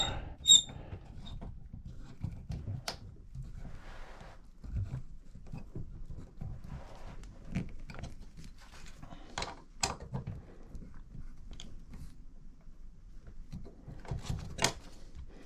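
A set screw is tightened on a battery wire terminal, producing quiet, irregular metallic squeaks and small clicks from close by against a near-silent background.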